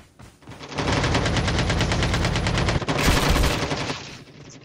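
Rapid automatic gunfire in a video game, a dense, loud burst of fast repeated shots lasting several seconds before cutting off, with no talking over it.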